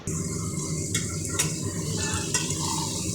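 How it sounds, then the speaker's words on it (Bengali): Sliced potatoes and onions frying in hot oil, a steady close sizzle and crackle running throughout, with a few brief scrapes of a utensil stirring the pan. "আলু পেঁয়াজটাকে ভেজে নেব।"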